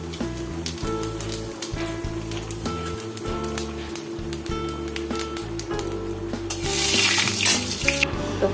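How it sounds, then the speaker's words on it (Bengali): Dried chilli, bay leaf and cumin fry in hot oil in a kadai for a tempering, a dense close sizzle with crackling spatters that swells louder near the end. "তো ফোড়নটা ভাজা হয়ে গেছে,"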